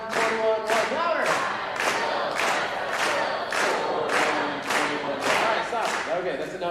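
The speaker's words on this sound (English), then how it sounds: "that's enough of the Bible time clapping game" A church congregation claps in steady unison beats, about nine sharp rhythmic claps mixed with loud group chanting, forming a driving call-and-response pattern during a Bible clapping game.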